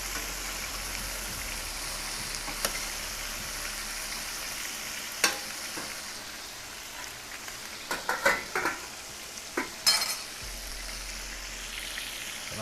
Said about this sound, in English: So we're gonna let this sear a little bit